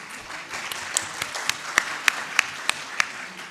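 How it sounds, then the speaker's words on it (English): Sparse applause at a South Asian conference on public policy and governance: a handful of distinct, fairly crisp claps spaced roughly evenly over a quiet room hush, moderately faint. "a big round of applause"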